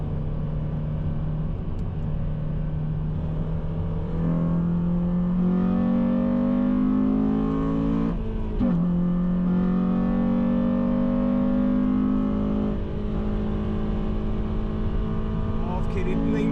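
A rusty Honda Civic Type R drives a Grand Prix circuit, its engine droning loudly with rising revs through the gears, a brief dip at a shift, then climbing again close up inside the cabin.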